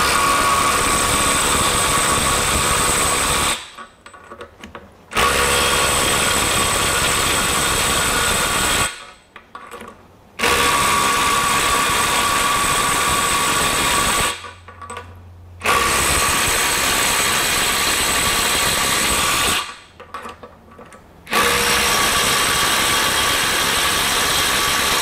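A Ryobi One+ HP compact impact driver fastens bolts in five long, loud bursts of hammering drive, each lasting several seconds and separated by brief pauses.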